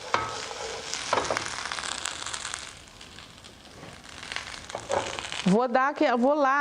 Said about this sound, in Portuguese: Eu vou refogando o quiabo